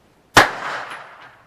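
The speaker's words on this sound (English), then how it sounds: "This is the Glock 19, and I feel really comfortable using this firearm." A single sharp Glock 19 pistol shot at an outdoor shooting range, close and loud, with a sudden crack followed by a decaying reverberant tail.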